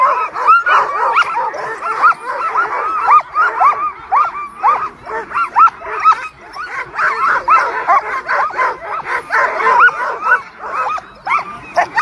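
Many excited sled dogs at the start of the Knik 100 race in Alaska bark, yip and whine continuously, loud and close, with people talking faintly underneath.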